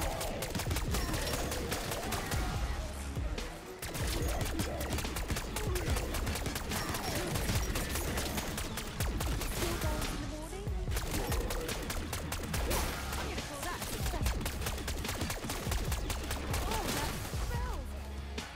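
Goblin Mark II assault rifle in Black Ops 6 Zombies fires dense, rapid bursts almost without pause. Busy game effects surround the shots, and a player's voice talks intermittently over the din.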